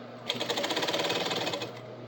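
A sewing machine stitches a seam in stretched fabric, producing a close, rapid and even mechanical chatter that runs for about a second and a half before stopping.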